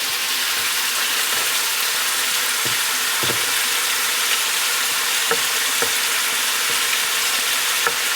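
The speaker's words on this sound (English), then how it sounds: "I gotta get my garlic in a little early." Garlic fries on a grill beside meat for a grilled chicken and pork belly sandwich, with a loud, steady sizzle throughout and occasional small clicks and pops, and no talking.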